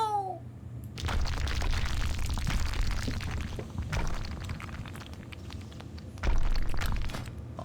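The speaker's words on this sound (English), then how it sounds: "I'll set off the charges to prevent any more Trogs from making it to the surface." Set-off demolition charges explode in World of Warcraft's Gnomeregan dungeon, a sustained rumbling blast with crackling debris and a heavier boom near the end, loud and close with no talk over it.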